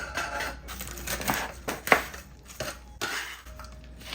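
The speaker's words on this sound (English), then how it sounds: "I'm gonna go ahead and chop up some bacon." Bacon being chopped with a knife on a cutting board: a few sharp, irregular knife clacks and scrapes, fairly quiet and close, spaced out over a few seconds.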